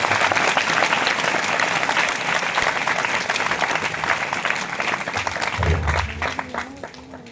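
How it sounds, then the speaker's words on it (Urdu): Loud, sustained applause from a large audience at an annual church convention, steady clapping that fades toward the end as a voice begins under it. "آپ سب کی زوردار تالیوں میں۔"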